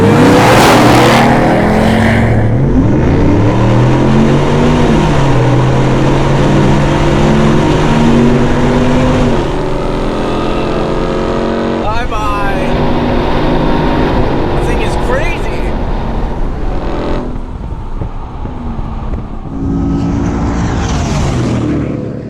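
Supercharged V8 in a Hennessey Venom 775 Ford F-150 racing a RAM TRX, engines roaring and climbing in pitch through gear changes, loud and close, then fading and passing, with people talking over the sound.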